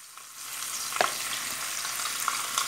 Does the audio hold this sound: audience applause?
no